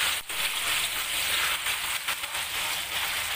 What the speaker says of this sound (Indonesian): Kita goreng tahu pula.